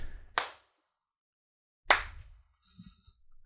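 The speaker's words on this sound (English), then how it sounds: "Clap your hands better." Two sharp, loud hand claps about a second and a half apart, each a crisp isolated smack followed by silence, with faint low murmuring near the end.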